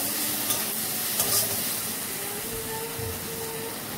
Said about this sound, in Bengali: এবারে মশলাটাকে আমি ভালো করে মিক্স করব।